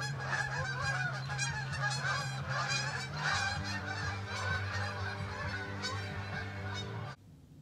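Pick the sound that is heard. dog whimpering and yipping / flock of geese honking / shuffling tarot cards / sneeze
flock of geese honking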